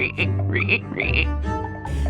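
Frogs croaking at a pond, in a children's animated story: a few close, loud croaks and trills in quick succession, filling the short moment without talk.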